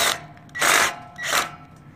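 Three short bursts of a power driver sinking screws into a swivel wire harness during assembly of a Wind-Max 2000 wind generator, close and loud with brief pauses between.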